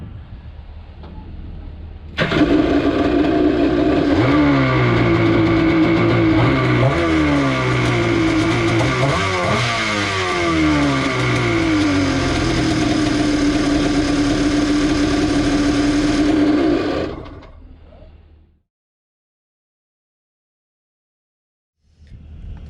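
Boat engine started by jumping two wires under the open hood, catching after a brief click and then running loud and close, revving up and down for about fifteen seconds before cutting out into silence.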